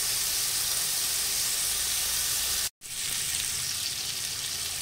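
Bacon fries in a pan with a loud, dense, continuous sizzle and crackle, cut off by a brief silent gap before it resumes just as strong.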